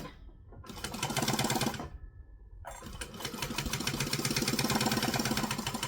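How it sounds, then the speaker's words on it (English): Sewing machine running in continuous bursts as it stitches close to a fabric edge on a joining stitch length for a kangaroo project, with a brief pause midway before the steady, rapid mechanical whirr resumes. "I'm just going to sew as close to the edge as I can to get all of that in."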